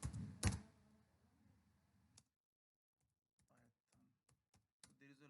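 Keys tapped on a computer keyboard while searching for a Python library, a few quick soft clicks after an initial louder clatter, then sparse, faint keystrokes with pauses between them.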